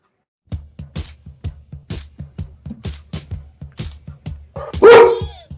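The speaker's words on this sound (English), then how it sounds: "Yes, his dogs are in the back." Dogs kept in the back bark in a steady, repeated run of sharp barks about twice a second, ending in a louder, drawn-out yelp or whine.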